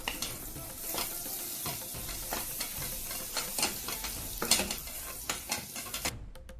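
Chopped onion stirred into sausage sizzling in a pan for sausage masala, with steady frying crackle and repeated scraping stirs of a spoon against the pan, close and continuous, no voices.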